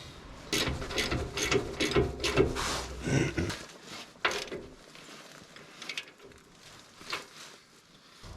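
A ratchet wrench snugging the castle nut on a lower ball joint of a first-generation Toyota Tundra, with rapid close clicking strokes for about three seconds followed by scattered faint clicks and tool handling.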